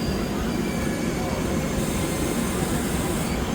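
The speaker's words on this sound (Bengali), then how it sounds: "এইখানে আমাদের ট্রেন যাচ্ছে" The Ganadevta Express on its run from Azimganj to Howrah roars along the rails in a dense, steady rumble of wheels and carriages, loud and unbroken, with a faint squeal riding over the noise.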